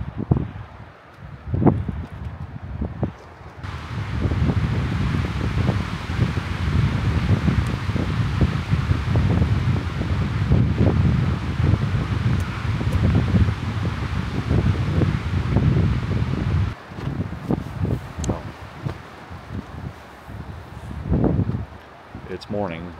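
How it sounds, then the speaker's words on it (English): Strong wind gusting around 30 miles an hour buffets the microphone in a sustained roaring rush for most of the stretch, with rustling and some talk at the start and end. "But this wind is just atrocious"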